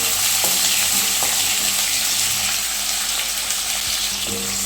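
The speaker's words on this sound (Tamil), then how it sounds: "வெங்காயம் நல்லா வதங்கி வரட்டும்." Small onions sautéing in hot oil in a pan for a Tamil vatha kulambu, a steady broadband sizzle running throughout with faint stirring taps, close and fairly loud, no talk.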